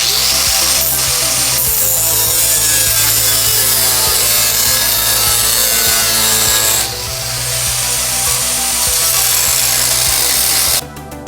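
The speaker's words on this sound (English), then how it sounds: "So I got both side panels cut out, looking pretty good." Power tool cutting sheet metal side panels for wheel tubs on a Nissan 240SX, a steady loud grinding buzz running continuously up close, ending in a brief sharp burst.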